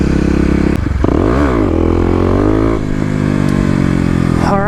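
A Kawasaki KLX250 dirt bike fitted with a 13-tooth front sprocket roars close by, its engine revving up and down through sweeping pitch changes, loud and continuous with no talking.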